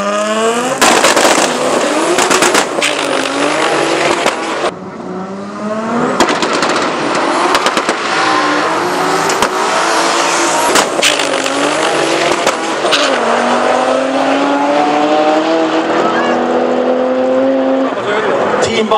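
Drag racing cars at the Helsinge Open drag strip roar loudly at full throttle down the track, engine tones sweeping steadily upward through the run with bursts of tire noise, while a commentator talks over the racket.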